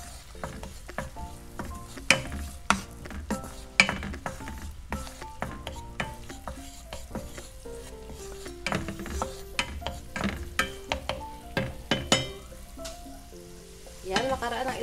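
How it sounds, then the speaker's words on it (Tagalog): Crushed garlic sautéing in a pan, a continuous sizzle and fry broken by repeated sharp clinks and scrapes of a utensil stirring against the pan. "pwede na po natin igisa yung ating bawang"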